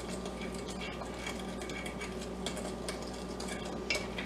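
Sugar and ground cinnamon being stirred together in a bowl, a soft continuous scraping and light clinking of a utensil, close and fairly quiet with no talk.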